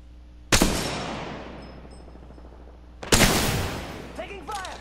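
Two loud, close gunshots in the Apex Legends video game, each a sharp crack with a long ringing decay, spaced a few seconds apart, with brief voice-like chatter at the very end.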